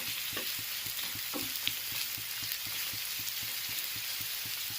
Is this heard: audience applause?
no